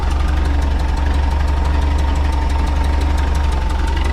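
Volkswagen Type 4 engine fitted with dual carburetors idles steadily while warming up, a loud, continuous low rumble with a rapid even ticking pulse throughout and no voices.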